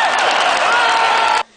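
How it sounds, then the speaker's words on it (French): Auction-room crowd at a horse sale claps loudly in a dense, unbroken wash of many hands, then cuts off abruptly. "Tout le monde devrait se lever dans la salle d'ailleurs pour applaudir."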